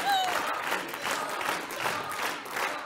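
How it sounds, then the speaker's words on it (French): Studio audience on a TV game show breaking into brief applause, a soft wash of clapping that swells and fades in waves, fairly faint and a little distant. "On peut l'applaudir."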